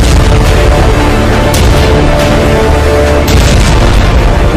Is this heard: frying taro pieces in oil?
no